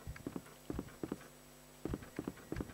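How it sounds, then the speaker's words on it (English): Heavy, evenly paced footfalls of the Tyrant stalking through Biohazard 2, landing in pairs of thuds with short pauses between, moderately loud against a faint steady background hum. "I hear footsteps, and there he is, the tyrant."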